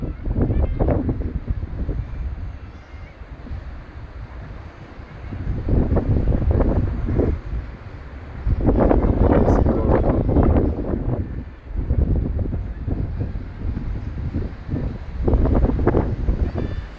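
Gusty wind buffets the microphone on the Kordon seafront in Alsancak, İzmir, in heavy rumbling bursts that rise and fall irregularly, with a faint background hiss between gusts.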